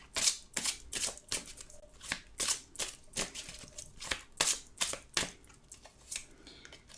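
Oracle cards are shuffled and handled in quick, crisp bursts of riffling and snapping, repeated rhythmically at close range with no talking.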